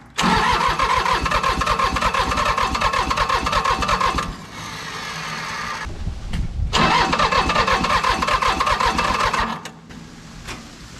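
An old commercial diesel mower engine, left in a field for twenty years, cranks hard without firing: two long, loud rhythmic starter churns separated by a short lull, close by, with no voices.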